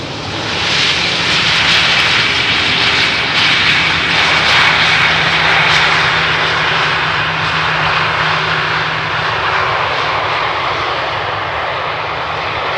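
A fixed-wing airliner arriving on runway 18R at Amsterdam Schiphol Airport roars loudly and steadily throughout, a broad sustained engine rumble with a whining tone, heard from close by with no talk.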